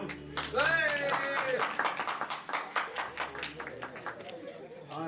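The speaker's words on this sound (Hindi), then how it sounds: "बजाओ भाई ताली ठोक के" Wedding guests clap for the couple, scattered hand claps building into rhythmic clapping under overlapping chatter and voices, moderately close and fairly quiet.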